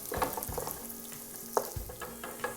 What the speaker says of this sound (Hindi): अब इसमें किशमिश डाल देंगे। और इसको बस 2 से 3 मिनट फ्राई करेंगे।